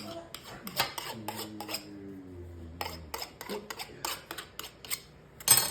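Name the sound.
knife cutting off excess pastry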